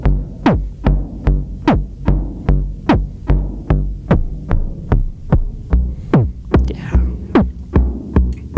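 A synth patch plays a steady run of sharp plucked notes with descending pitch sweeps, each tail washing into a reverberant decay over a low sustained drone.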